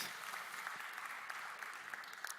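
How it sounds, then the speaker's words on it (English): An audience at the UNWTO World Forum on Gastronomy Tourism applauds the session moderator, Ms. Carvalho; the clapping is faint and distant, a brief, even patter lasting a couple of seconds. "a round of applause for Ms. Carvalho"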